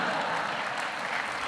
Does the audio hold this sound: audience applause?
yes